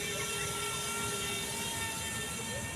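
A JJRC M02 VTOL remote-control plane flies in helicopter mode at an open field, its motors giving a steady, even whine that holds throughout without talk.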